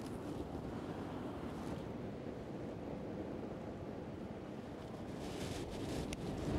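Surf washes over a sandbar extending from the back of a reef on a beach near Denmark, Western Australia, as a steady, dense roar with wind buffeting the microphone and no distinct breaks.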